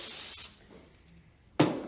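Cheap hairspray is sprayed onto hair in close, breathy aerosol hisses: a brief spray at the start, a quiet pause, then a louder, sharper burst near the end.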